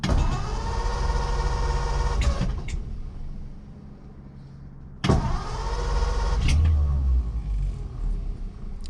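A 1930 Ford Model A sedan engine cranks with a steady mechanical churn, catches briefly with a louder burst, dies away, then cranks again near the end, close and loud.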